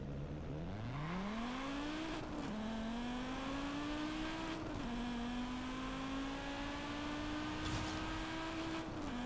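Tuned car in Forza Horizon 5, its engine note climbing through long gears as it accelerates, with brief dips at each shift, heard fairly faintly and steadily without any talking.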